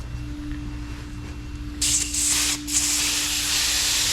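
A compressed-air lance blasts air at the pins of a Caterpillar D9L dozer, a loud broad hiss that starts suddenly partway through, briefly dips, then resumes steadily over a low background hum.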